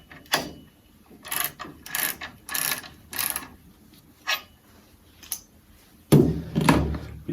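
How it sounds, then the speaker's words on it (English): A torque wrench tightens the clamp on a W+ double-seal pump, giving a series of separate mechanical ratcheting clicks and bursts at an irregular pace that ends in a louder, heavier burst, with no talking. "I would torque down the clamp"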